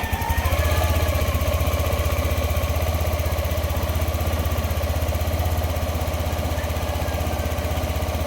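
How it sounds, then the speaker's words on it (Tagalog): A Yamaha Nmax 155 V2 scooter, its idle fluctuating after sensor calibration, fires up and settles into a steady, close, buzzing idle with a fast regular engine pulse throughout, no talking. "susubukan ko ulit papaandarin itong motor."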